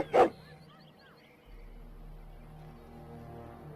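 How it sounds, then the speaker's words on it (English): A single short dog bark rings out in Dragon Age: Origins, followed by faint in-game ambience and a low background hum. "Why are you barking, Meiji?"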